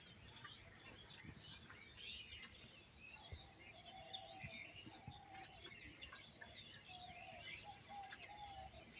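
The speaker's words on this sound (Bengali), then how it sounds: "পাখিরা সব এখানে গোসল করছে।" Small birds chirp and call busily around a wall-side bathing spot outdoors, with a soft pigeon-like coo and light splashy patter running underneath throughout.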